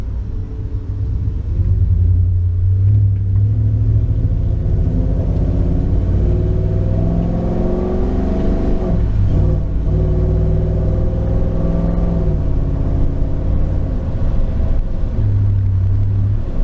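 A Ford Ranger pickup with a swapped-in Coyote V8 engine and an automatic gearbox that allows manual shift selection, heard from inside the cab as a loud, deep, steady engine rumble that rises and falls as it shifts gears, with no voices.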